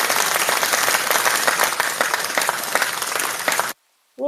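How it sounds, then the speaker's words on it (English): A clapping applause sound effect played from a soundboard during an online voice chat: thick, even crowd clapping for nearly four seconds, then cutting off abruptly into silence, followed by a brief voice. "Somebody do the clapping soundboard."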